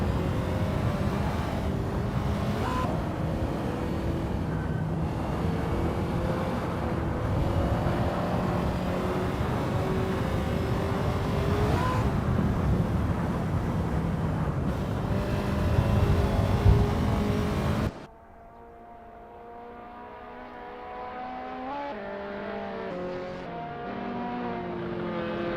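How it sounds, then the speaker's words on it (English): A Ferrari GTO race car engine drones loud and steady during a practice session at Prague in the Assetto Corsa racing game, then abruptly drops to a quieter, cleaner engine tone near the end. "Chris Ilduke is getting to grips with the Ferrari GTO in this practice session"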